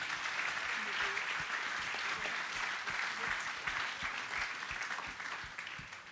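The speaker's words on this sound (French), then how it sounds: "Encore une fois, on les applaudit s'il vous plaît." Sustained applause from an audience at a party event, dense clapping that holds evenly and tapers slightly at the end.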